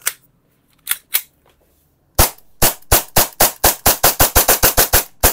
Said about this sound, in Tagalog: Si WE guys, sobrang tigas ng blowback.